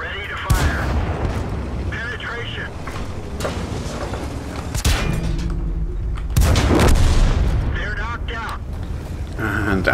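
A T-34 tank's main gun fires in a tank video game, loud booming blasts over rumbling engine noise, with talk running underneath.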